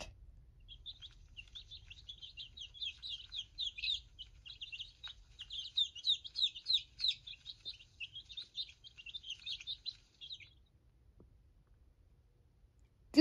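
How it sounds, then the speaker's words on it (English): A domestic chick gives a long stream of rapid, high, thin peeps, close and fairly steady for about ten seconds before falling quiet over a low background hum. "Chick."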